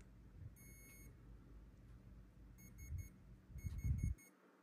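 A Furitek Unity 24 Pro ESC in an SCX24 crawler beeps during programming: a short electronic tone, then a set of three quick beeps and a set of four, thin and fairly faint over low rumbling handling noise.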